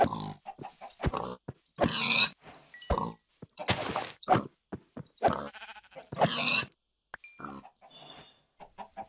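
Pig grunts and squeals from farm animals in the video game SpriWorld, mixed with sheep-like bleats from other livestock. Repeated short bursts in an uneven rhythm, loud and close, with no talking over them.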